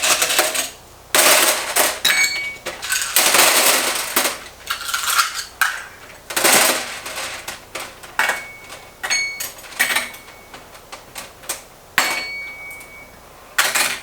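Nuts and bolts from a hardware bag for a Harbor Freight four-drawer tool cart clatter out in bursts of loud metallic jingling and clinking, with several separate pours and rattles and no talking.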